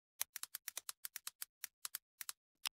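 Computer keyboard keys tapped in a quick, uneven run of about sixteen crisp, close strokes, with short pauses near the end and no talk.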